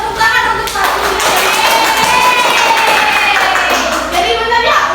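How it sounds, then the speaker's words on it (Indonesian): A class of young children claps for a classmate after a correct answer in a shapes lesson, a brisk, continuous patter of small hands with children's voices chattering through it. "Tepuk tangan untuk Patricia"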